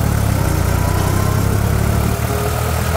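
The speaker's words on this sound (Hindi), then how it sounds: "ये कर दिया जी ट्रैक्टर हाई स्पीड।" A New Holland 3600-2 tractor with a 16+4 gearbox runs in high-speed gear, its engine a loud, close, steady low drone with a throbbing rumble throughout.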